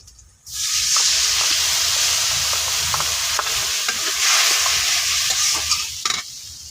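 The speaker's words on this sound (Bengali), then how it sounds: "মশলাটা ভালো করে কষায় নিচ্ছি" Onion and a spice paste of onion, cumin, turmeric, salt and chili powder fry in oil in a pan, giving a steady hiss and sizzle broken by repeated scraping stirs, with no talk.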